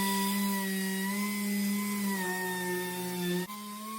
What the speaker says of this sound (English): We're going to fiber wheel them all off.